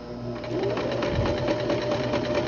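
Sewing machine stitching over the bulky tie of a parasol dress, a close, steady mechanical whirr running without pause.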